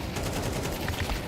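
Rapid gunfire in a Counter-Strike match on the Inferno map, fired through a smoke cloud; dense, continuous bursts of shots at steady loudness with no talk.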